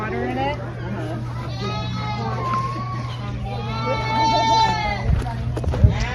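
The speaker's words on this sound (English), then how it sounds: "And baby goats." Baby goats and sheep bleat at a farm in several wavering calls, with children's voices and chatter mixed in over a steady low hum.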